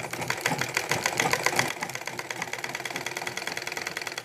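Sewing machine stitching along a folded, ironed fabric edge for salwar trousers, a fast, steady run of needle clicks that speeds up briefly before settling into an even, close rhythm throughout.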